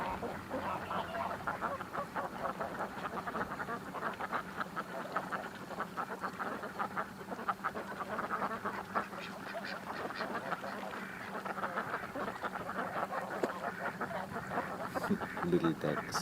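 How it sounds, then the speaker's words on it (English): A dense chorus of ducks and geese quacking and honking on a lake fills the air continuously, with someone talking over the birds throughout. "little ducks."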